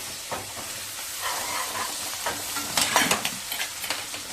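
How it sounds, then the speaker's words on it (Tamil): Masala frying in oil in a pan, with a continuous close hiss of sizzling and scraping stirring strokes that grow louder toward the end. "இந்த மசாலாவை இதில் போட்டிடலாம். இப்போ நல்லா எண்ணெய் பிரிஞ்சு வர அளவு வதங்கட்டும்."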